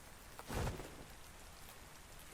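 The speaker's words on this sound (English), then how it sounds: "We've been flying so long it's raining again." Rain falling in the video game Ark Survival Ascended on The Island, a quiet, steady hiss with one brief louder gust of patter.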